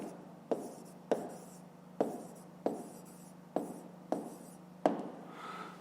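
A pen writes on paper in a series of seven scratchy strokes spaced about half a second apart, each starting with a tap and trailing off, recorded close and quiet with a faint hum underneath.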